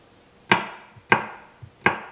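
Three sharp knife chops through garlic on a cutting board, evenly spaced about half a second apart, each a crisp close thwack with a short decay, plus a couple of faint lighter taps between them.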